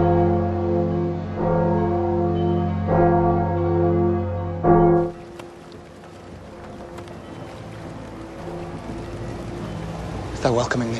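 Church bells ring in a city scene from Game of Thrones, sustained resonant tolls for about five seconds, then a quieter ambient stretch with faint clatter and a brief sharp sound near the end.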